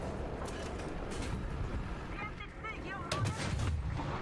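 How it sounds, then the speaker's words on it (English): Incoming artillery fire in War Thunder: a steady roar of battle noise with heavy low booms, a louder cluster of impacts near the end, and faint voice-like sounds mixed in. "Now there's artillery coming at me."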